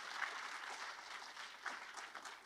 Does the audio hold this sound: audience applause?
yes